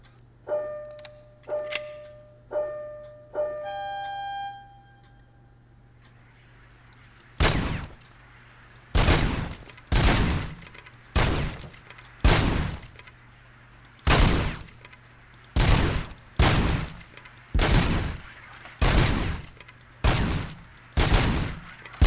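Gunfire in the video game RoboCop: Rogue City: a few short tonal beeps, then about a dozen heavy, evenly spaced gunshots ringing out loudly one after another over a low steady hum.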